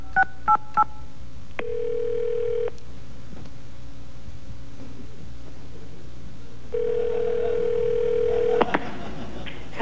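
Touch-tone phone number dialed live on a talk-show set: a few quick DTMF beeps open, followed by two sustained dialing tones, one long and one longer, heard clearly with little else around them.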